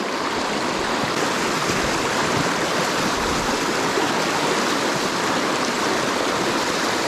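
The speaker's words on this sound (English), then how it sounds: "standing right here in the rushing water" Rushing river water swirling around someone standing in it, a steady broadband roar that stays loud and close throughout with no voices.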